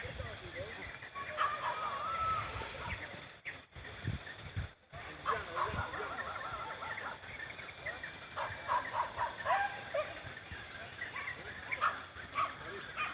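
Dog barking and yipping during a dawn hunt at a city garbage dump, several scattered barks and whines at moderate distance amid background noise, with people talking intermittently.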